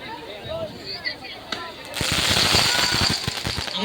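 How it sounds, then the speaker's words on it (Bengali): Fireworks bursting outside a Sheetala temple festival, a rapid crackling volley of sharp pops that erupts midway and keeps going, loud and close, with a crowd murmuring underneath. "আমাদের এই আতশবাজি"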